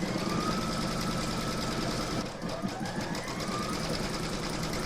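Embroidery sewing machine stitching an in-the-hoop lined crazy patch bag, a steady, close, loud rapid mechanical whirring that runs continuously with a brief dip midway, no talking.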